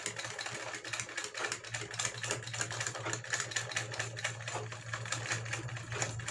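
Sewing machine stitching along the top of a suit collar, a steady rapid mechanical clatter with a constant motor hum, close and continuous throughout with no talking.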